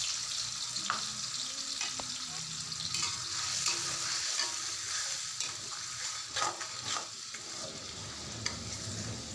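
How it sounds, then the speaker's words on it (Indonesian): Sambal sauce sizzling in hot oil in a wok while being stirred, steady frying crackle with scattered scraping clicks of the utensil against the pan, no voices. "panaskan minyak goreng, lalu tuangkan sambalnya ke dalam wajan. Setelah itu aduk sampai bumbunya harum."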